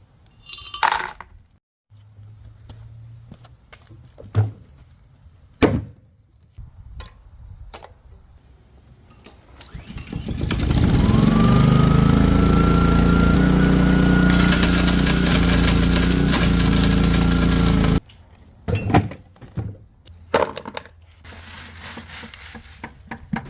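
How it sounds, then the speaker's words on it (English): A lawnmower-engine rock crusher with a spinning prop shaft flings ore into steel baffles. After scattered knocks of rock handling, the engine roars up loud and steady for about eight seconds, then cuts off abruptly, followed by more clattering rocks. "A lawnmower engine powers a prop shaft that spins around very fast and flings the ore into a series of steel baffles."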